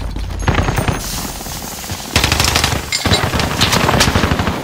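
Rapid automatic gunfire in the Warzone video game on Rebirth Island, with loud, dense bursts of rattling shots nearby in two long strings separated by a short gap.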